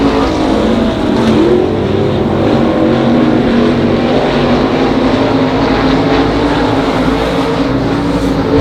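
Race cars lapping the Monarch Motor Speedway dirt oval make a loud, continuous engine roar that stays steady throughout without a clear pass-by swell.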